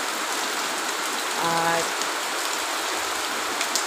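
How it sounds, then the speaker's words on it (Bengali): Heavy rain pours down outdoors in a steady, dense hiss of drops striking surfaces, with a brief voice speaking over it partway through. "যে বৃষ্টি পড়ছে"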